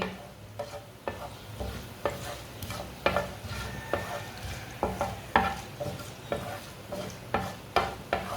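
Whole coriander seeds roast in hot oil in a pan, with a steady soft sizzle broken by regular scraping stirs every half second or so, close and clear, no voices.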